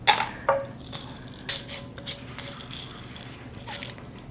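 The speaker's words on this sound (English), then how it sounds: "I'm gonna break a cinnamon stick" Someone snaps a dry cinnamon stick into smaller pieces, producing several crisp, close cracks and splintering clicks spread irregularly over a few seconds.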